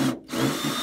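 A power drill unscrews the cover of a solar hot water system, giving a brief whirring burst that cuts off and restarts within a second, close and moderately loud.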